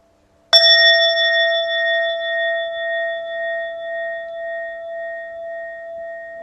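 A meditation bell is struck once in a quiet room, giving a clear bright strike that rings on with a long, slowly fading, gently pulsing tone.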